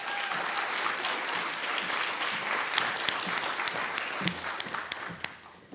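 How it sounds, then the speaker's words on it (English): Warm, sustained audience applause at a conference, a dense wash of clapping from a crowd that holds steady for several seconds before tapering off toward the end. "So please give what has now become an AABR warm round of applause to Tiara Chesmer-Williams."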